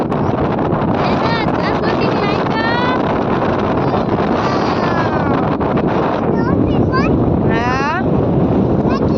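Strong sea wind roaring into the microphone at Rozi Bandar port in Jamnagar, a loud continuous rumble with people talking over it throughout.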